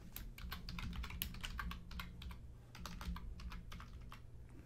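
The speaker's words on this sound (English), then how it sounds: "Don't mind my typing," Typing on a computer keyboard while setting up MDB product codes for a Nayax vending machine credit card reader, a quick irregular run of light clicking keystrokes in short bursts with brief pauses, close but quiet, over a low steady hum.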